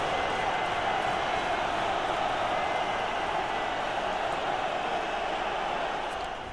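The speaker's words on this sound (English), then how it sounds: "The home crowd is not happy." A dense, steady roar from a home stadium crowd in the football game FIFA 21, holding loud and constant before easing slightly at the very end.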